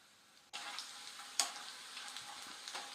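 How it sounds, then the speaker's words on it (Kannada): Sliced potatoes for homemade masala chips dropped into hot oil, setting off a sudden broad sizzle that keeps bubbling steadily, with a sharp splash partway through and a few small clatters. "ಇವಾಗ ಎಣ್ಣೆಗೆ ಬಿಡ್ತಾ ಇದ್ದೀನಿ"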